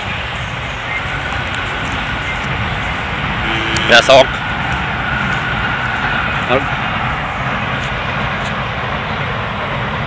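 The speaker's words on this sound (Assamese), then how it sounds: "এয়া মালবাহী ট্ৰেইন" A freight train rolls past beside a river, giving a steady, loud rumbling roar throughout, with a brief spoken word partway through.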